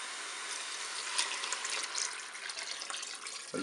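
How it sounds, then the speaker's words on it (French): Water pours steadily into a Cookeo multicooker pot over tomato pulp, a continuous close hiss of liquid with a brief louder splash near the middle and a faint knock at the end. "Maintenant, je vais verser de l'eau."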